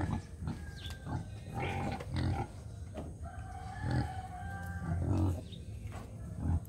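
More than 60 mestizo and native pigs on a farm grunt and squeal in repeated bursts at breakfast while being fed napier grass, with rooster crows and clucks mixed in nearby.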